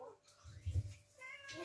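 A pet cat gives a few short, faint meows at close range in a quiet home, with a soft voice heard between them.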